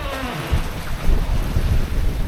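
Big waves slosh and thud against the hull of a sailboat reefed under two sails at about five knots, irregular low surges with wind hiss and no voices.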